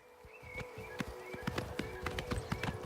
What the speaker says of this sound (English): let's take the horse